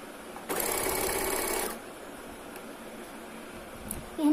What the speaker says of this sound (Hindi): ऐसे मस्त सिलाई लगा देंगे फोल्ड करते हुए